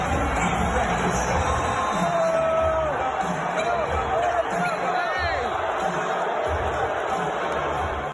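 A large arena crowd at a UFC event in New York roars with sustained booing, a dense continuous wall of voices filling the space from start to finish.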